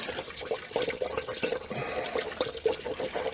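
Coolant mix is poured into the cooling system of a Dodge Avenger 2.4L, a close, faint glugging and trickling of liquid with small irregular splashes.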